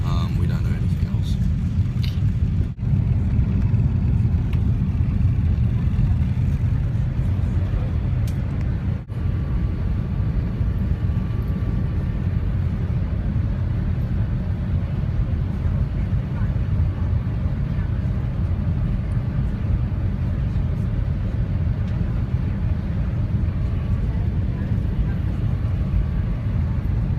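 Emirates A380 cabin in flight with the landing gear down, filled with a loud, continuous low roar and heavy rumble that holds steady throughout, broken by a couple of sharp dropouts.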